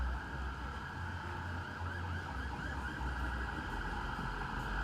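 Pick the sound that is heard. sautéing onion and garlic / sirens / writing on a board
sirens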